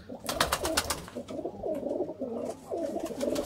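A golden pigeon coos in soft, repeated rolling phrases, close and steady, with no talking.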